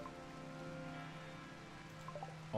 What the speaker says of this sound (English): Oh, there's rain.